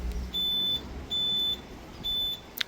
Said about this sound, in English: Three beeps means ultrasonics and the tilt sensor are turned off.